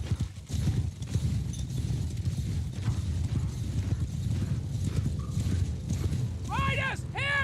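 Cavalry horses from the Old Realms mod of the game, galloping with rapid, dense hoof clatter that continues throughout under voices, followed by sharp whinnies near the end.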